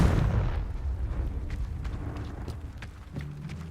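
A Confringo fire spell bursts in Hogwarts Legacy: one heavy booming explosion at the start that rolls off into rumbling debris and faint crackles.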